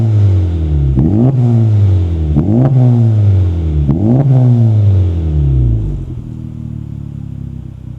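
A 2024 Acura Integra Type-S with an A'PEXi N1-X valved catback exhaust in sport mode gives three quick, loud, deep revs close by, each rising and falling back, then drops to a steady idle.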